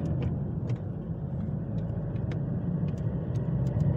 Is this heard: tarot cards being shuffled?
no